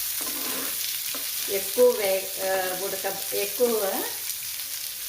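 Ingredients frying and being stirred in a pan, a steady close sizzle with scraping stirring strokes running throughout, under a few brief spoken words.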